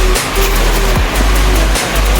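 Water rushes continuously at Chingudia waterfall, a loud broadband roar close by, with a few faint passing tones over the steady flow.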